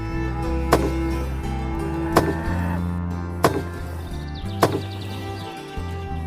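A woodcutter chopping wood in a forest in a Hindi short film: four sharp axe strikes land roughly one and a half seconds apart over a steady background hum, with no talking.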